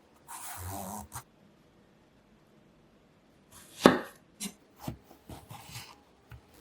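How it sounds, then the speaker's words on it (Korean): A knife scores the skin of an eggplant on a board, giving a few short crisp cuts at first, a pause, then a cluster of sharper taps and scrapes close by. "가지 껍질 부분에 칼집을 내주려고요."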